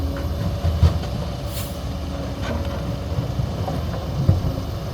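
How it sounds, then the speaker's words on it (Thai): A diesel excavator engine runs at a steady idle without revving, loud and continuous, with a few faint metallic clanks and hisses over the rumble. "ฟังจากเสียงเครื่องยนต์แล้วไม่ไม่ได้เร่งเครื่อง อะไรมากครับ"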